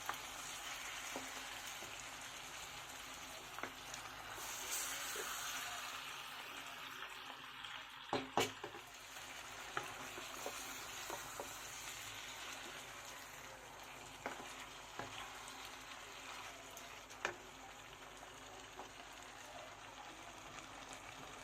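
Meat frying with onion and tomato in a pan gives a constant soft sizzle with scattered pops and small clinks of stirring, steady and fairly quiet throughout.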